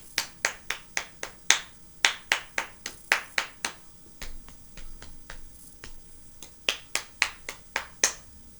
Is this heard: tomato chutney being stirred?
no